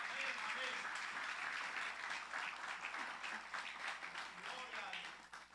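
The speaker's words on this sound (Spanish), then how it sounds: "¿Por qué no le aplaude al Señor?" Church congregation applauding together, a sustained wash of many hands clapping at fairly steady loudness for several seconds, with scattered voices mixed into the crowd.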